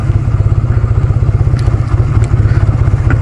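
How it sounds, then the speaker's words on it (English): Small motorcycle engine idling shortly after a cold start, a steady, rapid low thumping pulse with slight clatter, close and loud throughout. "Little bike don't run too bad when it's been warm."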